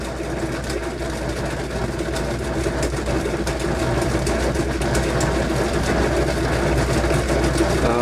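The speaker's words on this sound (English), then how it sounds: "And my wheel is going a lot faster." A homemade Bedini motor wheel spins fast, giving a steady mechanical whir with a rapid rhythmic ticking hum that rises slightly in loudness and carries on without pause.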